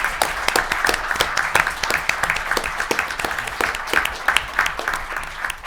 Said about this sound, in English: can we have a round of applause for the folks here who are supporting us, filming us, making sure the AV works well